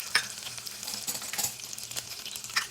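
Green chili, ginger and garlic sautéing in hot oil, with a crackling sizzle and quick clattering stirs of a utensil against the pan, fairly close and steady.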